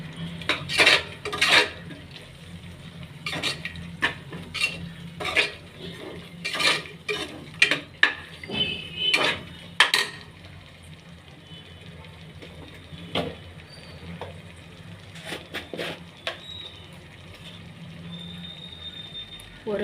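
A spoon clatters and scrapes against a pot while biryani masala is stirred into a mutton biryani base, giving a run of sharp metallic knocks and scrapes in irregular bursts with quieter gaps between them.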